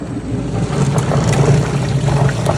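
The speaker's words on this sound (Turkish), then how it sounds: "açık bırakıyoruz ki içerisinde alkalili suyumuz veya asitli suyumuz devir daim yapsın" Calf milk-feed preparation machine running a cleaning cycle, circulating alkaline or acidic wash water through its system; a steady low mechanical hum with sloshing water noise, continuous and fairly loud throughout.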